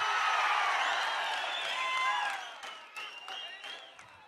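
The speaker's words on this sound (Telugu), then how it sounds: "అవునంటే గట్టిగా చప్పట్లు కొని చెప్పండి" Crowd at a political rally in Andhra Pradesh breaks into loud clapping and cheering, a dense wash of applause with whoops that thins out toward the end, broken by a few scattered bursts.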